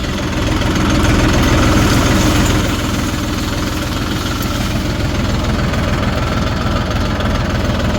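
A farm tractor's diesel engine runs steadily at idle, a low, continuous knocking rumble with vibration, close and alone for the whole stretch, slightly louder near the start.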